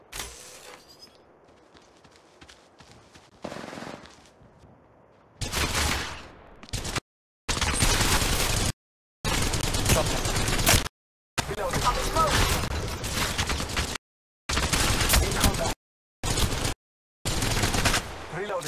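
Rapid bursts of automatic gunfire from the Apex Legends Mobile shooter game, loud and close, broken into separate volleys with short silent gaps between them and quieter scattered shots at the start.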